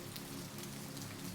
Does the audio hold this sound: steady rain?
yes